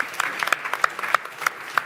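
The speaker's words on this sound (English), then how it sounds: "Yeah, give a big applause." Audience applause at a World Health Summit opening night, light and scattered, with distinct individual claps at irregular spacing and a brief voice under it.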